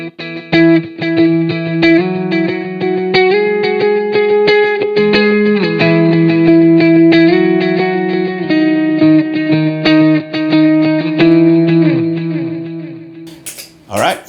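An electric guitar through a Line 6 POD HD500x plays sustained, layered notes with stacked echoing delay repeats building into a dense wash, ending in a brief noisy burst.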